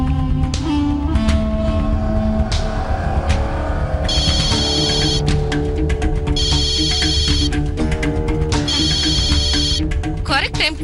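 A telephone bell rings loudly in bursts, three long trilling rings in a domestic scene from a Tamil TV serial, over background music and room sound.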